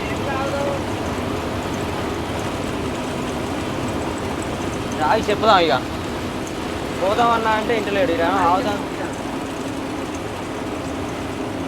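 Heavy rain drums steadily on a moving truck with a constant wash of noise and engine rumble throughout, while people talk over it in the cab.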